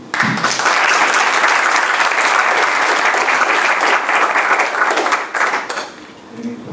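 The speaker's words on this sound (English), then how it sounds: "Please join me in one more round of applause for Nicaragua's Solidarity Caravan for Peace." Sustained audience applause for a peace caravan, dense and steady clapping from a sizeable crowd that holds strong for several seconds before thinning out near the end.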